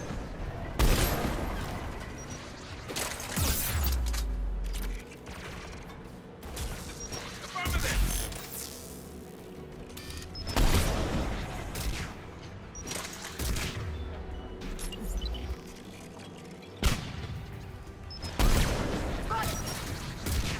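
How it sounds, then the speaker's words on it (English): Anti-aircraft guns in the Mass Effect 3 video game fire in repeated loud bursts and heavy booms, the barrages recurring every few seconds, with crashes and mechanical clatter between them and a voice speaking now and then. "AA guns ahead of us."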